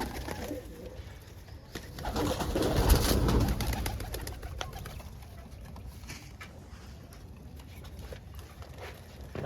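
Pigeons coo softly nearby, with wing flutters and light scratching and pecking clicks throughout.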